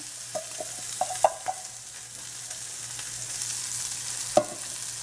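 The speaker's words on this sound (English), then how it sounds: "So we will add our ginger and green chili now" Ginger and green chili sizzling with browned cumin seeds in a pan for tomato chutney, a soft steady fry with a few sharp clinks of a spoon stirring, close and quiet, no talk.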